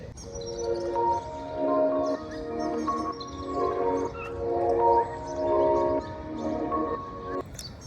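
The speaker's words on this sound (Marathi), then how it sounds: "पक्ष्यांची किलबिलाट आहे, त्याचप्रमाणे एकदम शांत वातावरण आहे सकाळ सकाळच." Birds chirp and call repeatedly on a quiet early morning in a village in Wada, Palghar, moderately distant, with a soft low hum underneath.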